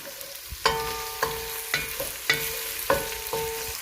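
Chopped onions frying in a pan for aloo keema, stirred with a utensil that rings against the metal about six times at a steady rhythm over a low, quiet sizzle.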